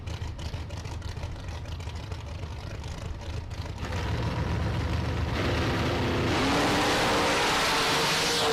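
Drag race cars, including a Roadster S10, launching in a bracket race at the strip, with a loud engine roar that builds and climbs in pitch as they accelerate away, and no talk over it.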